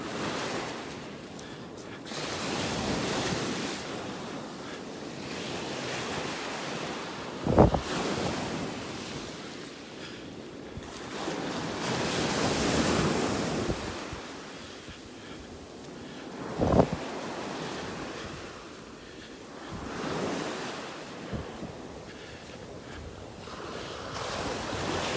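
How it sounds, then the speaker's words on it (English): Ocean waves roll onto the beach at North Naples, Florida, each surge swelling and fading in slow cycles under steady wind buffeting the microphone, with a couple of sharp gust thumps. "Love these waves."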